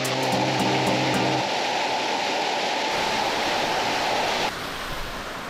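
A waterfall at Namtok Than Sadet on Koh Phangan, Thailand, roars as a steady, loud wash of falling water close by, with a short run of tonal beeps at the start and no talking.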